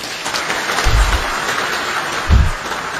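Audience of provincial civil servants breaks into steady applause, a continuous wash of clapping with two low thumps standing out near the middle and end.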